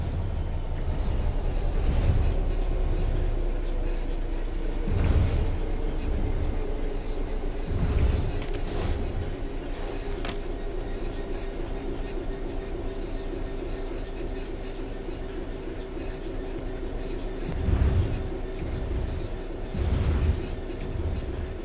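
Train coasting on level track in the Train Sim World 3 game on Xbox, a steady rumbling roll with low humming tones and periodic heavy thumps from the wheels over rail joints.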